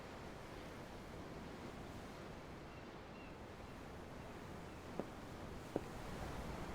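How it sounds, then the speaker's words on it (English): Steady ocean surf washes without a break in Tales of Arise, a broad, even roar with a faint wind-like hiss and two brief ticks near the end. "I'm looking at the ocean."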